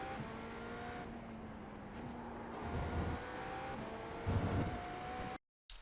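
Race car engine at full speed in iRacing approaching the final corner at The Bend, a steady high-pitched engine tone holding and shifting, with brief louder rises and an abrupt cutout near the end.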